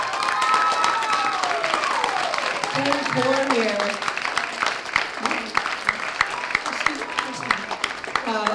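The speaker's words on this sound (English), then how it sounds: "another big round of applause for both of our featured writers this round" An audience at a Word War poetry slam breaks into applause, a dense crackle of clapping with some cheering that runs throughout while a voice speaks over it.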